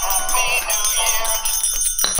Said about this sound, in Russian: А у него еще вот такой колокольчик есть.